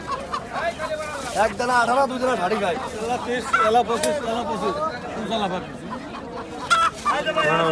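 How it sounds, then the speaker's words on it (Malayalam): Native chickens cluck and squawk close by amid busy crowd chatter at Baladiya Market in Mussaffah, Abu Dhabi, with people talking over the birds throughout. "ഇത് നാടൻ കോഴിയാണ്"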